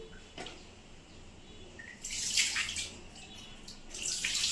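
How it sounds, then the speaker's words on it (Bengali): Warm water from a geyser poured during a bath, splashing and gushing up close in bursts, quieter at first and then louder pours with some dripping between. "একটু গরম ঠান্ডা জল দিয়ে করাচ্ছি, গিজারের জল গরম করে নিয়েছি।"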